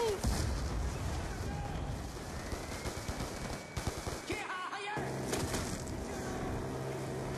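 A grenade explosion amid heavy battlefield gunfire in the Black Ops 2 video game campaign, a muffled blast within continuous dense shooting and rumble.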